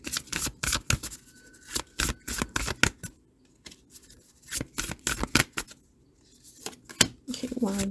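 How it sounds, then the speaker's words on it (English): Oracle cards being shuffled by hand, rapid bursts of crisp riffling and slapping in uneven clusters, close and fairly loud, with short quiet gaps between bursts. "let me pull some oracle cards for you"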